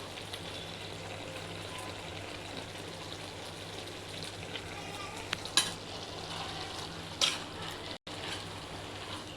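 Chicken keema is stirred in a hot pan with a steady low sizzle underneath and a few louder scraping clinks of the spoon near the end.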